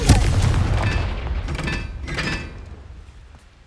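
A Confringo fire spell blasts in the video game Hogwarts Legacy, a loud booming explosion with crackling debris bursts that roll on for a few seconds before fading away.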